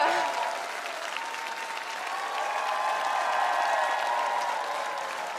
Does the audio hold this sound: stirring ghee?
no